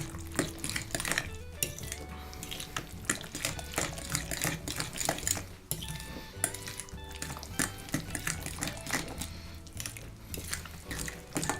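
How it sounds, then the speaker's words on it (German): Guacamole dip being stirred in a bowl, with repeated scraping and clinking of a utensil against the bowl, busy and fairly loud, over a cluttered kitchen background with some tonal ringing. "Kannst du noch mal schön umrühren."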